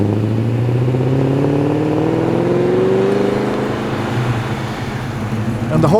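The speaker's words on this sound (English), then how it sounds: "another beautiful V8 burble" V8 Ford Mustang leaving a car show in Tempe, Sydney, its engine revving with a deep rising burble that swells loudly and close, then fades slightly before picking up again.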